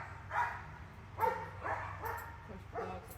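Dogs bark a handful of times from some distance, faint and spaced out over a low outdoor hum near a Ford F150 pickup.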